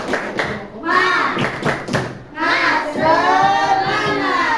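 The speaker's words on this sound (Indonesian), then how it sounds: "boleh tepuk tangan untuk kelompok 2" A sixth-grade class claps for a student group in a thumping, rhythmic pattern of hand claps and pats, with children's voices chanting loudly over the beat throughout.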